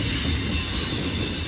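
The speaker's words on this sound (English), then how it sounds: "trying to get there, but a ridiculously long train" A very long freight train rolls past on the railroad, a loud continuous rumble of wheels with a high, steady metallic squeal over it, close by and with no talk.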